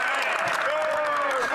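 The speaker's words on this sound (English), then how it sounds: "All the Conservatives are just standing up, clapping, having a great time." Conservative MPs on their feet clapping in the House of Commons during Question Period, a dense burst of applause with voices talking loudly over it.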